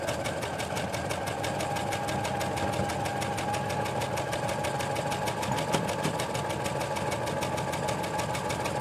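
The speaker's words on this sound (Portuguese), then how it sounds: "a gente vai fazer aquela costura bonitinha, bem juntinho ali do vermelho" A home sewing machine fitted with its standard centimetre presser foot stitching fabric close to a red edge, a loud, steady rapid mechanical chatter running continuously throughout, with no voices.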